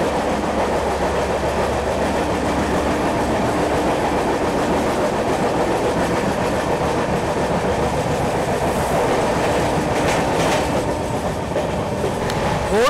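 An early-morning train to Bishnupur rolls steadily, with a continuous rumble and rhythmic clickety-clack of wagon wheels on the rails, loud and close, with no talking.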